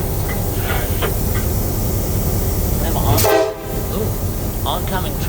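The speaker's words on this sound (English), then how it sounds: "got a incoming train coming" A train approaching on museum railroad tracks, with a steady rumble and a short horn blast near the middle, fairly close and loud, then the rolling noise continuing; voices come faintly in the background.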